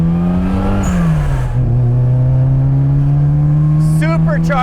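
A supercharged JET Motors remastered classic Mini Cooper accelerating hard, its engine drone loud and close, pitch rising, dipping at a gear change, then climbing steadily again, with a short whine near the end.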